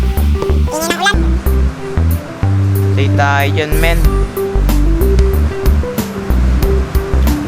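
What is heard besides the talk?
rain in Minecraft video game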